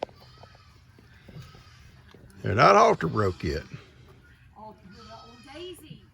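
Goats on a farm bleat in a loud, wavering cry close by, with people talking quietly before and after.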